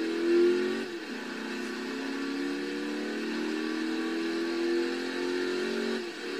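A car engine in the racing game Forza Horizon 3 runs steadily while driving to a fuel station. The tone rises and falls a little in pitch, holds at an even level for several seconds, and has no talking over it.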